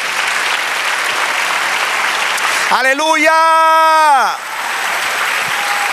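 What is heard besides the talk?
congregation applauding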